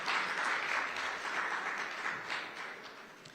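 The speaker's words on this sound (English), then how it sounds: "give us a clap" Audience applause at a business launch event in Jamaica, a dense, steady wash of clapping that slowly fades, with no talk over it.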